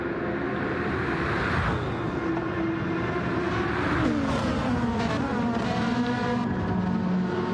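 A Dodge Viper race car in a GT racing game on the Nordschleife gives a continuous, loud engine drone whose pitch rises and falls through gear changes, mixed with other car engines nearby.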